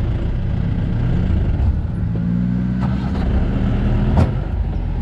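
Truck engine straining and revving steadily while towing a bogged ATV on a mountain track in Kerala, India, a continuous loud drone with rising and falling pitch.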